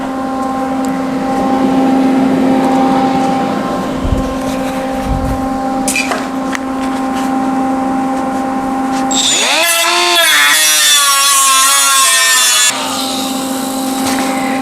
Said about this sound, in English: So the idea is to hold the grinder at about 45 degrees.